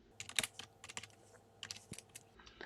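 Rapid keystrokes on a computer keyboard while a terminal command is typed, a quick irregular run of crisp clicks close by with brief pauses between bursts.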